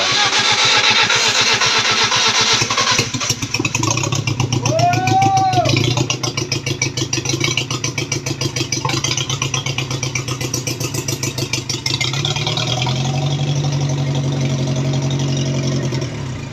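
A 316 turbo car engine that has just been repaired starts up and settles into a loud, close, rough idle with a steady throbbing pulse, while someone talks over it.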